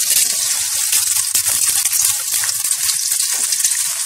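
Loud, continuous sizzling of sliced onion frying in hot oil in a pan, a dense hiss with crackling pops and faint stirring, no voices.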